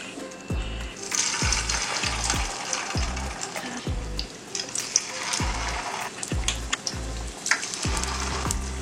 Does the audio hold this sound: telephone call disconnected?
no